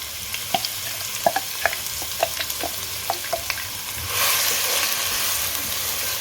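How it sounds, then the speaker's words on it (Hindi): Two medium onions, finely chopped, sizzle in hot oil for aloo anday ki bhujia. Steady frying hiss sits under scattered clicks and taps, then swells into a louder, fuller sizzle near the end. "ऑयल भी हमारा गर्म हो चुका है। अब हम इसमें 2 मीडियम साइज़ के अनियन चॉप डाल देंगे।"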